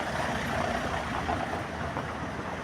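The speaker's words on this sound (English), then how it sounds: "let me see, few cars are passing" A few cars pass on a street in a town in southern Italy near the main cathedral, giving a steady low rumble and tyre hiss of moderate, fairly distant traffic with no voices.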